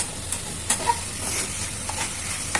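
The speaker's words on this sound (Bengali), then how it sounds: "এবার পেঁয়াজ কুচিটা দেওয়া হচ্ছে।" Three medium onions, finely chopped, stirred in a pan for a chicken recipe, with a low steady sizzle and a few light scraping clicks of the spatula, fairly quiet and close.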